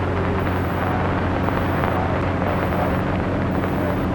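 A light airplane engine drones steadily and loudly while climbing through about 6,000 feet, with wind rush over the cabin and a faint repeating high tone, with no talking.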